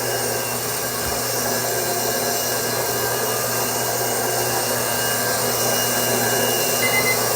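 A clipper blade sharpening machine runs with a steady, loud mechanical whir and a constant hum, holding level throughout with no talking.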